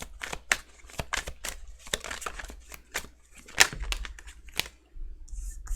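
Tarot cards shuffled by hand in a quick run of crisp, papery flicks and riffles, close and fairly quiet, with brief pauses between bursts and a low background hum.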